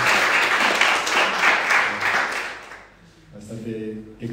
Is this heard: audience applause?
yes